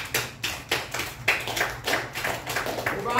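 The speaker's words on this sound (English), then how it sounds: "Give the Lord a hand to pray." A church congregation clapping in bursts, loud and close, with rhythmic pulses of hand claps rising and falling roughly every third of a second across the stretch, no talking over it.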